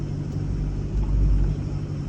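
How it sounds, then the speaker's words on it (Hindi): A Force Gurkha off-roader's engine drones in a low, steady rumble while straining against the pull of a heavy pine tree on a hillside landslide site, swelling briefly mid-way. "अब गाड़ी से गुरखा से हम जोर लगा रहे हैं पेड़ का,"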